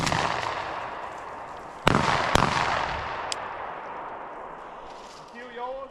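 Two loud shotgun blasts fired while bird hunting over pointing dogs in the field, sharp and close, a third fainter report following, with breezy outdoor noise and voices nearby.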